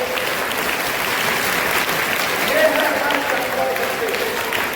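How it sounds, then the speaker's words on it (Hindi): Students clap together at a school sports event, a continuous, fairly loud mass of applause with crowd noise and a voice faintly underneath. "एक बार ताली बजा के देख लो"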